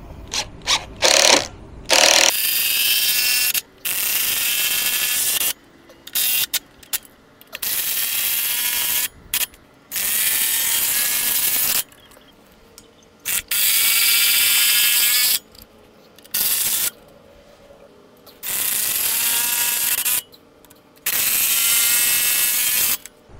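A power driver whirs in repeated bursts, each a few seconds long, separated by short pauses, while side leg brackets are fastened onto a solar ground mount.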